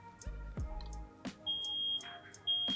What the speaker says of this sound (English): you'll hear the alarm